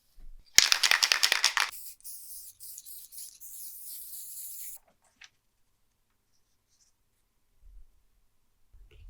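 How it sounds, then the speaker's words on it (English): Light spray adhesive hisses from a can onto a woodworking template in short bursts after a quick rattle of the can, then the workshop goes quiet. "use some light spray adhesive to stick it down with the help of a plastic spreader"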